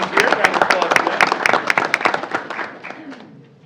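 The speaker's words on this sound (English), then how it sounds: "Round of applause for them." Scattered applause at a school board meeting honouring a vocational senior of the month and his family, a modest group of sharp claps close by that thins out and fades over a few seconds.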